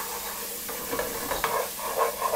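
Chopped onion frying in a hot pan for macaroni cheese: a steady, loud sizzle and hiss with occasional scrape-like bursts of stirring, close up with no talking.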